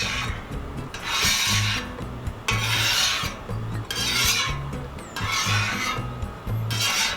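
A metal scraper rasps across a Cuisinart 360° griddle after bacon has cooked, in repeated loud strokes of about a second each with short pauses between, close and with no voices.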